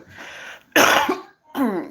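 Two or three harsh, close coughs from a person with COVID in quick succession, loud and abrupt with short pauses between them.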